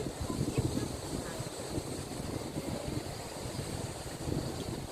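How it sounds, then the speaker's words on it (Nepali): A breeze blows across a bridge at Kusma, a steady, fairly faint rush of wind buffeting the microphone without a break, with no speech. "ओहो, मिठो हावा चलिरहेछ।"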